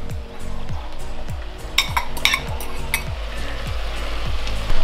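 Shredded carrot tossed into a hot pot sets off a steady, fairly loud sizzle and frying hiss, with a few light clinks of utensils against the pot and no voices.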